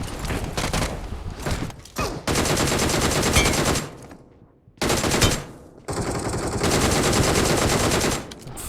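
Rapid automatic gunfire from a UMP in the mobile battle royale game Battlegrounds Mobile India rattles out in long loud bursts separated by brief pauses, with a short lull midway before the shooting resumes.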